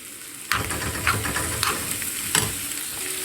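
Garlic and green coriander sizzle in a small amount of ghee, a steady close hiss of frying with stirring scrapes and a few sharp crackles as the herbs hit the hot fat.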